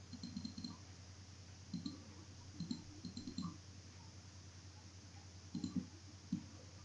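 Mouse clicks on a zoom control in Photoshop: small, sharp clicks arrive in short clusters of two or three, spread unevenly over several seconds, fairly faint over a steady low hum, with no talking.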